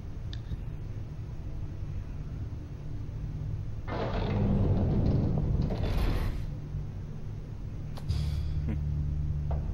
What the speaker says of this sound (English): Close secret door.